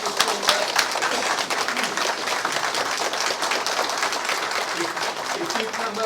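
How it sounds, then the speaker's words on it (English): Audience at a Chamber of Commerce volunteer-of-the-year awards event breaks into a big round of applause, dense steady clapping from a crowd heard throughout with some background voices. "Let's have a big round of applause for Kinsley."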